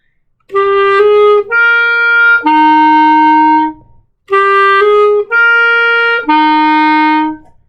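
A clarinet plays a short phrase of three sustained notes, pauses briefly, then repeats the same phrase clearly and loud.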